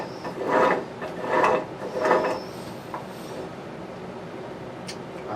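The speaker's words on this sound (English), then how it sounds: "That's shifting back and forth from first and neutral." A T96 transmission is shifted by hand between first gear and neutral, giving three rhythmic, close scraping clunks followed by quieter mechanical rubbing.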